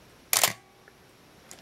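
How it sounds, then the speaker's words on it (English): A Minolta XG7 film SLR from 1977 fires its shutter in auto mode, giving one sharp mechanical clack close to the mic, a faint tick, then a second quieter click in a quiet room. "we can see the shutter's operating"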